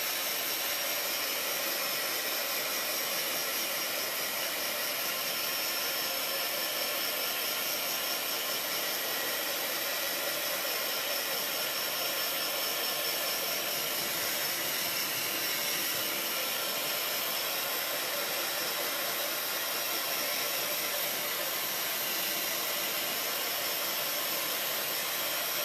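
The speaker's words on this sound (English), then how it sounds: "I'm going to go ahead and take my heat embossing gun and go over" Heat embossing gun blowing hot air over a craft ink mat, a steady loud broadband hiss and whir held without a break for the whole stretch, with no talk.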